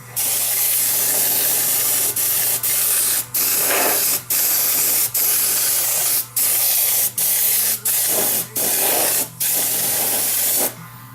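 An airbrush sprays liquid mask in a string of steady hissing bursts, each lasting about a second, with short pauses between them and a constant low hum running underneath.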